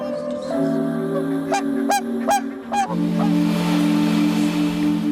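Geese and cranes, including barnacle goose, common crane, bar-headed goose and swan, give several loud close honks in quick succession over a steady droning background.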